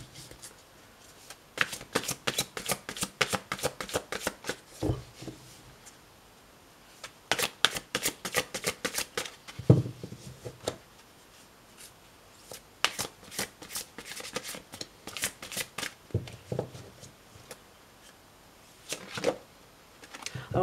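A deck of cards is shuffled for a card reading, with bursts of rapid riffling clicks repeating in several quick runs, close and fairly quiet, with no talking.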